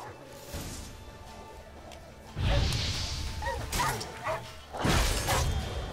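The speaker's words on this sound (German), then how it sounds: "Tollwütiger Hund." A rabid dog in The Witcher III: Wild Hunt lets out a few loud, harsh barks and snarls in bursts, with crashing combat effects and steady game ambience around them.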